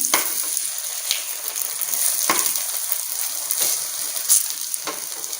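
Egg paratha frying in desi ghee on a hot pan, a steady close sizzle with a few sharp crackles and spatters, no talking.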